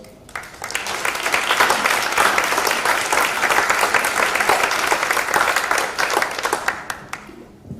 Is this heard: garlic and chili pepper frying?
no